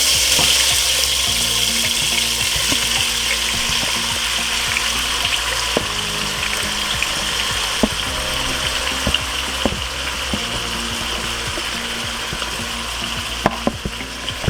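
Shrimp cooks in a pan with a steady, fairly loud sizzle close by, while scattered clicks and scrapes from stirring or turning sound through the hiss and nobody speaks.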